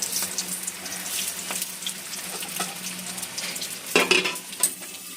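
Bhetki fish paturi parcels wrapped in banana leaf fry in a wok, three at a time, giving a steady close sizzle with brief stirring clatters and a louder scrape near the end.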